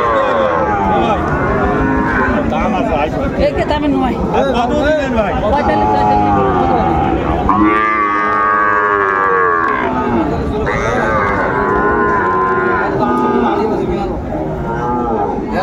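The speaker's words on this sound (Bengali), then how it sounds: "শাহিওয়ালের মধ্যে ষাঁড় বাচ্চা আমরা দেখছিলাম, আমাদের চলছে।" Young Sahiwal bull calves at a busy cattle market, with loud, close talking over a dense crowd babble and a long, drawn-out moo rising out of the noise midway.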